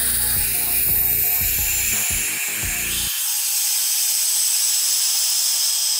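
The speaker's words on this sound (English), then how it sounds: "So that when I open the vacuum chamber." A few mechanical clicks and clunks as a vacuum chamber is opened, then a steady airy hiss that fills the rest of the clip as air rushes back in.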